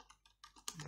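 Quick keystrokes on a computer keyboard while assembly language code is entered, about five close, light clicks in a rapid burst with a voice faintly underneath.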